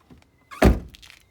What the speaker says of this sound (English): Squeaky door, that's awesome.